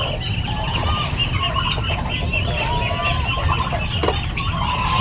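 Sick turkey poults in a brooder, with repeated high chirping calls over a constant low hum, fairly close and continuous.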